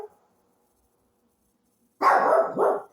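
After a long silence, a dog lets out a loud, close bark followed quickly by a second, shorter bark.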